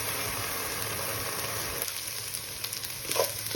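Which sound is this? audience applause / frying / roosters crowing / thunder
frying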